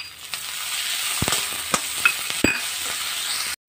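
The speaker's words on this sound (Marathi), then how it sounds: "कांदो रोस्ट करून जाल्लो आसा तातूंत बारीक चिरिल्ले टोमॅटो घालून घेवपाक जाय।" Chopped tomatoes go into roasted onion in a hot pan, giving a steady close sizzle with a few sharp clinks of a stirring spoon, and the sound cuts off abruptly at the end.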